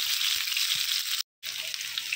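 Split pointed gourd (potol) halves fry in hot oil with a dense, even hiss. It is close and continuous, broken by one short silent gap, with a few soft knocks underneath.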